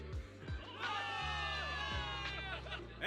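A crowd cheers and shouts in the video game Zenless Zone Zero, a dense roar of many voices rising and holding steady through a victory celebration.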